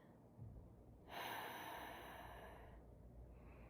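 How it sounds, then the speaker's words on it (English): Slow, deep breath drawn in through the nose during a guided breathing exercise, a soft rising airy rush that swells and then fades, heard alone and close in a quiet room. "So just breathing deeply, inhaling through the nose"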